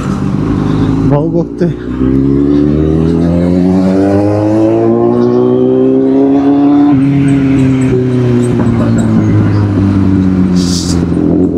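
A Royal Enfield Interceptor engine drones loud and close, its pitch climbing steadily as it revs and then settling and falling away, with someone briefly talking over it.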